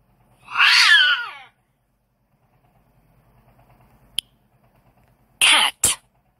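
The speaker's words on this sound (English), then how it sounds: "Cat." One drawn-out cat meow, clear and close, then a short spoken word after a pause.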